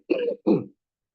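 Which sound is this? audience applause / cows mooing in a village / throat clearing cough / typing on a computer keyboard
throat clearing cough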